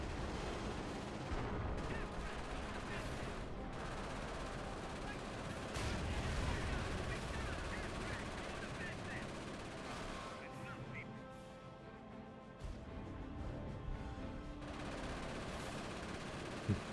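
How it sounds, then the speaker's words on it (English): Artillery bombardment in a war video game, dense layered booms and crackling impacts rolling on continuously, some bursts louder than others, with a softer stretch near the end. "Let the bombardment continue."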